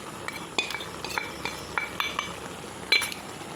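Spice mix stirred into duck curry in a pot, heard as a series of light scraping and clinking strokes of a spoon against metal, spaced out, close and fairly quiet, with no voices.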